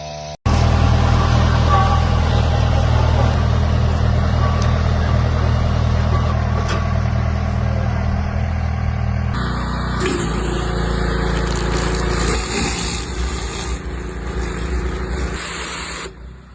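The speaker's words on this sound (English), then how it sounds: "Powered by a gasoline engine, it cuts grass quickly and delivers a neat finish." A gasoline-engine lawn mower with guide wheels runs as a loud, steady close drone while cutting grass, with its tone shifting partway through.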